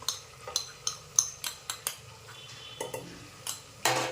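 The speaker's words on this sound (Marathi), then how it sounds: "आणि चांगली तेलामध्ये परतून घ्यायची आहे दोन ते तीन मिनटं चांगली तेलामध्ये ही परतून घ्यायची आहे आपल्याला" Spinach, green chili, coconut and garlic paste is stirred into hot oil in a pan, a utensil scraping and clinking against the metal in a steady series of close, sharp strokes with faint frying underneath.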